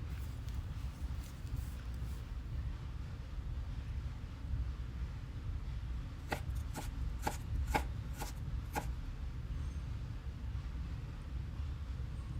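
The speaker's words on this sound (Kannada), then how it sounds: "ಟೊಮೆಟೊನು ಸಹ ಅಷ್ಟೇ ಚಿಕ್ಕದಾಗಿ ಕಟ್ ಮಾಡಿ ತೊಗೊಳ್ಳಿ." A knife chops tomato into small pieces on a board, with a quick run of about six sharp, evenly spaced taps in the middle of an otherwise quiet stretch of steady background hiss.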